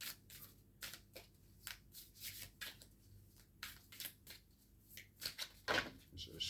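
Tarot cards being shuffled by hand, a steady run of soft riffling and sliding bursts, quiet and close, with a low background hum throughout.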